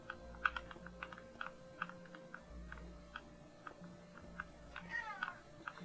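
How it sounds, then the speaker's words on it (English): A pet cat named Chaos meows repeatedly in the background, faint and intermittent, with steady computer keyboard typing clicking alongside and a low hum underneath. "Chaos, my cat, who's yelling in the background right now?"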